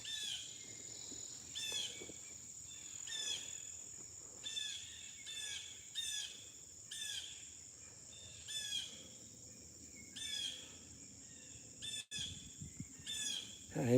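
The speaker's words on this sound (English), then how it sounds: "It's usually a mockingbird or a crow harassing a raptor." Repeated harsh scolding calls, likely a mockingbird or crow harassing a hawk or owl on a woodland nature walk, ring out roughly once a second, fairly close, over a steady insect and cricket drone.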